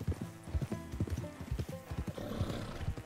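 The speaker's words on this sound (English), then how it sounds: "I don't want to ride on the horse like full speed" Horse hooves clip-clop in a steady galloping rhythm close up, with a whinny mixed in over a soft background bed, during horseback riding in the video game Red Dead Redemption 2.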